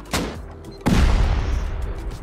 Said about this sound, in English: I'm gonna fucking blow this armor door here.